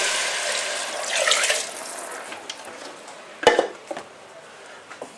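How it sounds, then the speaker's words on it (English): Cold water is poured into a pan of red lentils for a spicy dhal soup. A soft splashing rush is followed by quieter sizzling, then a few sharp clinks and knocks from the pan. "Going in with some cold water."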